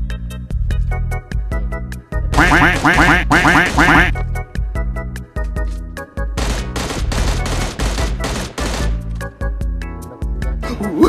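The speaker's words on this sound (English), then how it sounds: "Quack, quack, quack, quack, quack, quack, quack!" Duck quacks from PUBG Mobile on the Sanhok map, loud and repeated in quick bursts, mixed with dense gunfire and game sound effects.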